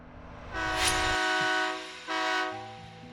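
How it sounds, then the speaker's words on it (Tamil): A train at a station platform sounds two loud, drawn-out horn blasts separated by a short pause, over a low rumble of rolling stock, with no voices. "ரயில் நகர்ந்தது வெளியே இறைச்சலாக பிளாட்ஃபாரம் பின்வாங்கியது"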